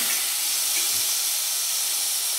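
Potatoes hit a hot pan for an eggplant and potato stir-fry, letting out a loud, steady steamy hiss that barely changes over a couple of seconds, with no voices.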